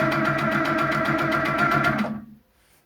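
A sewing machine stitching in the ditch along a quilt seam, a loud, close, rapid steady needle rhythm that runs for about two seconds and then stops.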